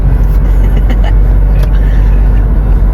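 Car driving along a road on the way to a sea fishing spot, heard from inside as a loud, steady low engine and road rumble with no talking.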